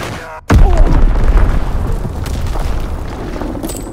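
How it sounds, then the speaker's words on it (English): An Azon bomb explodes in Call of Duty WWII with a sudden loud, close boom, followed by a long rumbling roar and scattered debris crackle over several seconds. "Dropping Azon bomb."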